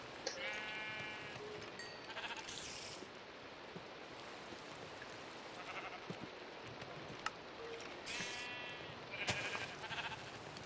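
Sheared sheep bleat repeatedly, several short wavering calls from a flock at moderate distance, scattered across a steady hiss that sounds like rain or outdoor noise.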